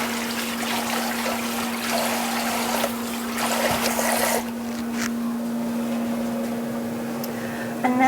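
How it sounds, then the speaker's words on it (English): Tap water runs steadily into a kitchen sink while hands are washed, a continuous close splashing rush over a constant appliance hum, with brief rubbing changes near the end. "Wash my hands."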